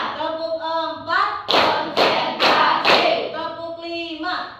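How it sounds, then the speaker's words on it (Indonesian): Hands clap in rhythm in a class, four crisp claps in a quick even beat, framed before and after by a chanting voice. "Tepuk 1, tepuk 2, tepuk 3, tepuk 4"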